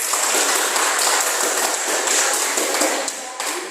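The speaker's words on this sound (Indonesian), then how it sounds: "Oke, tepuk tangan dulu." Classroom of students clapping their hands together in a dense, lively burst that stays fairly even before tapering slightly near the end.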